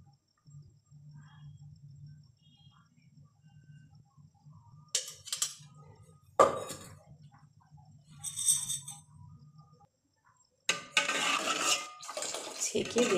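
Date palm liquid jaggery is strained into milk for pitha, with scattered metal clinks and scrapes of a strainer and utensils against a pot. A steady low hum runs beneath, and a louder clatter follows near the end. No one speaks.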